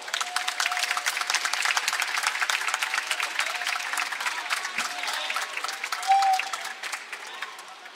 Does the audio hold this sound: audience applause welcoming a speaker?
yes